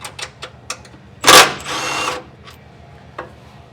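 An impact-style power tool, used to remove bolts while fitting power brakes to a 1956 Chevy pickup, fires one loud, brief burst, then gives a longer whir, among scattered metallic clicks and tool handling in a garage.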